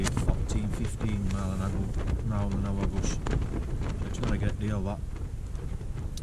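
Gusty wind of 14-15 mph buffets the microphone in a steady low rumble while someone speaks over it, on a Peak District hill at dusk.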